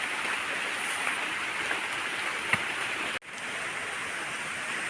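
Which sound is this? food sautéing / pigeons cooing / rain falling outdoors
rain falling outdoors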